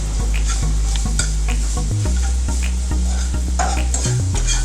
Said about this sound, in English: As you hear them sizzle.